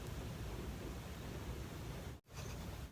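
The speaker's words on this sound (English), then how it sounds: "It's raining! Can you hear the rain?" Steady rain falling outside, a constant soft hiss that runs through the whole moment with one brief dropout near the end and no talking.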